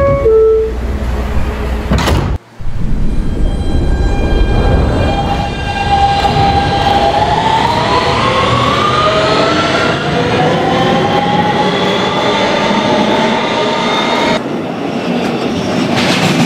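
An R160B Siemens subway train on the BMT Broadway Line in Roblox, loud steady rail rumble with a rising whine as it accelerates, a brief door or coupling clunk near the start, running continuously without talk.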